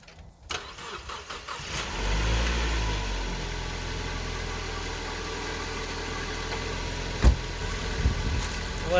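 A cold 2014 Ford Focus engine cranks and catches, then settles into a steady, close idle while warming up, with a faint clunk partway through.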